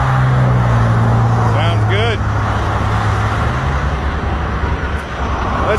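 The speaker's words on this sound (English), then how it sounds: "I see the truck still running." A semi truck's engine idles in a low, steady rumble outdoors, with nearby talk over it and traffic noise around.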